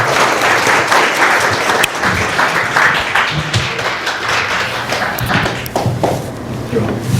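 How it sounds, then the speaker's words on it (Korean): An audience applauds at a Korean book launch for a translation and commentary on the Phenomenology of Spirit, with loud, sustained crowd clapping alongside footsteps and light taps as someone walks up, and some speech mixed in. "자, 큰 박수로 한번 보내드립니다."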